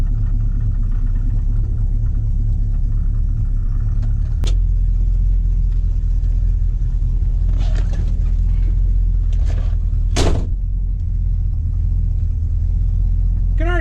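The 440 V8 of a 1966 Dodge Monaco runs after a tune-up with fresh clean plugs, a steady low rumble heard close up, with a couple of brief sharp clicks over it.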